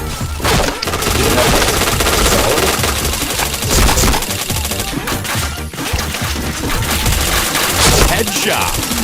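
Rapid, dense video game gunfire with headshot hits, loud and continuous bursts filling the whole stretch with barely any pause.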